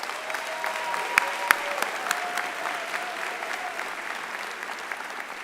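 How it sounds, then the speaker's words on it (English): Graduates applaud their family and friends at a spring university commencement ceremony, a steady, even wash of clapping from a large crowd with a couple of sharp nearby claps and a faint whistle early on. "Graduates, join me in a round of applause for your family and friends."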